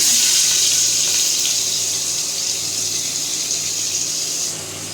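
Spice-coated fish hits hot oil in a pan, giving a loud, steady, close hiss of frying that eases slightly toward the end, with no talking.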